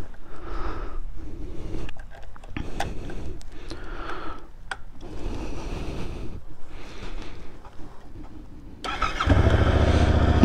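A 2022 Yamaha MT-07 motorcycle on its stock exhaust, with ticking and uneven engine sounds that end in a louder, steady roar as the engine fires up close by.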